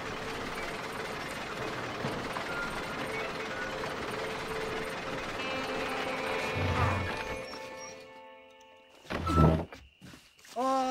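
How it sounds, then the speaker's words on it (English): Lift gears engage in Red Dead Redemption with ratcheting mechanical clanks over background noise, then a heavy thunk and brief rattling clatter near the end, close and fairly loud. "Load up and I'll engage the gears."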